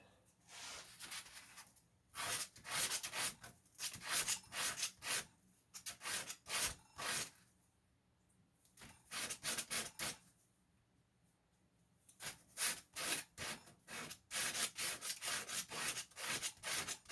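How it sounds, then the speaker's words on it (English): Close, scratchy hand sanding of the end button of a Suzuki Sirius bass harmonica, in bursts of quick twisting rubbing strokes, separated by short pauses of near silence. "So I'm twisting so that I'm sanding this thing smooth"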